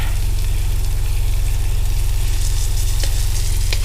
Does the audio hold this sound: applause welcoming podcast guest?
no